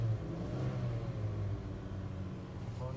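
Engine of a 1989 Dodge LE150 van, long sitting, revving steadily with a low rumbling drone that rises in pitch and holds, loud and close with no talk over it.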